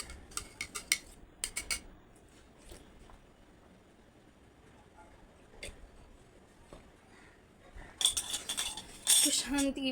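A spoon stirs and clinks against a glass of glucose powder mixed with water, in scattered quick metallic taps early and a denser burst of clinking near the end, with quiet stretches between.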